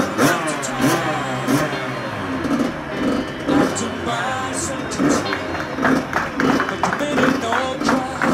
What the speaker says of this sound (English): Ben and Chris firing up the first two stroke